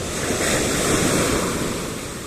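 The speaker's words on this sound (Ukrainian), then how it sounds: "Так розбилася спочатку там хвиля, а потім вода побігла вже сюди." Sea waves break on stones at the shore in November and the water runs up close. The surf is a loud, steady wash and roar, heard near and alone for about two seconds.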